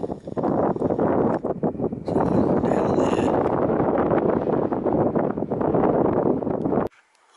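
Strong wind buffets the microphone on a steep grassy coastal slope near Moelfre, a loud continuous roar with gusty swells that drops away abruptly near the end.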